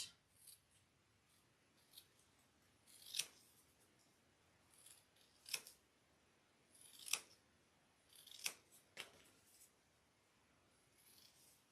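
Scissors snip through fabric while trimming a clutch during a sewing session, a handful of sharp, separate cuts spaced a second or two apart, close and fairly quiet with a soft hiss between them.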